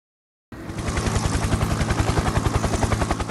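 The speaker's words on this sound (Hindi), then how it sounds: "अमेरिकी सेना का हेलीकॉप्टर वेनेजुएला के तट पर आता है" A US military helicopter flies over a tanker off the Venezuelan coast, its rotor chopping loudly in a fast, even rhythm that starts suddenly after half a second of silence and stays close.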